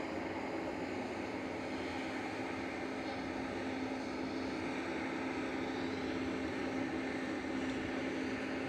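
A Turkish Airlines airliner in Star Alliance livery hums steadily at Manchester Airport, a faint, even engine drone with a thin tone running through it and no one talking.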